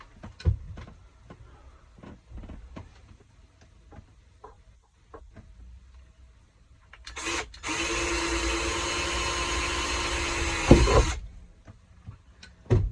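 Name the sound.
power drill drilling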